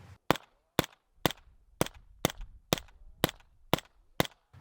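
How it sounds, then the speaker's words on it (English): A B&T SPC9 PDW blowback submachine gun fires suppressed in nine sharp, evenly spaced shots, each a loud crack with a short ringing tail, heard alone over a little low background noise. "On these, you would be dead wrong. They sound fantastic suppressed."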